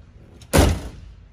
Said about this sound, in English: See the door closes just fine.